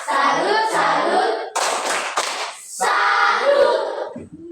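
A group performs a rhythmic clap salute in short bursts of sharp clapping, interrupted by brief pauses and a spoken count or chant.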